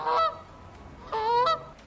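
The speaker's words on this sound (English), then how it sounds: "Another invasive species causing significant damage across North America is the Canada goose" A Canada goose honks twice, loud, harsh, nasal calls close by, the first brief and the second longer, separated by a short quiet gap.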